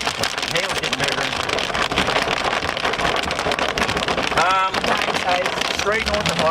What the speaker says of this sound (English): hail's getting bigger.